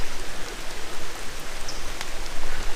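Steady rain under a gray sky in the Red River Gorge patters continuously on surfaces nearby, with a few brighter drops standing out against the dense hiss.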